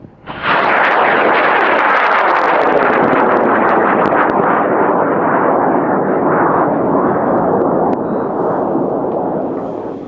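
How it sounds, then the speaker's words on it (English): High power rocket Blue Iguana lifting off from its pad under clear skies, a loud sustained roaring motor burn that starts abruptly and holds steady for several seconds before slowly tapering. "We're launching the Blue Iguana."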